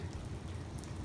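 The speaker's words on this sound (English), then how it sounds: "It's a really pretty fall day here in Utah, and it's sprinkling" Light rain sprinkles on a cold autumn day in Utah outside a parked RV, a soft, steady patter and hiss with a low rumble beneath and no one speaking.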